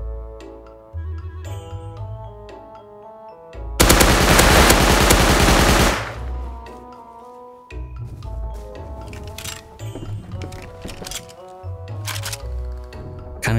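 A loud, sustained burst of rapid machine-gun fire in the video game Rust, lasting a couple of seconds, set between stretches of tonal music.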